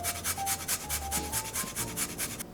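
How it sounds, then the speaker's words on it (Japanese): A kitchen grater rasps steadily against food such as ginger, garlic, cheese or lemon, in a fast rhythmic run of repeated scraping strokes, close and fairly loud, with no talking. "基本的に何でもすりおろせます。"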